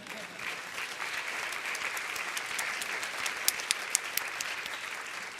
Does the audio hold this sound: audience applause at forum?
yes